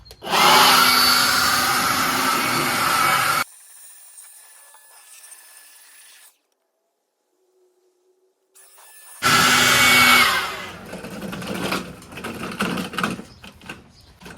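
A Craftsman 4.5 horsepower vac chipper, run without its bag, roars loudly and steadily close by, then cuts out into near silence before the engine bursts back in and runs on unevenly.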